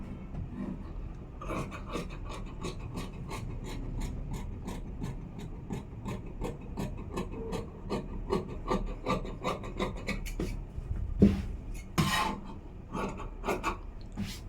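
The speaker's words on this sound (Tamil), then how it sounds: "இப்போ நான் வந்து ஃப்ரண்ட் வந்து வெட்டி எடுத்துடுறேன்" Scissors cut through blouse fabric along the front neck in a steady run of rhythmic snipping and rasping strokes, close and moderately quiet, with a few sharper snips near the end.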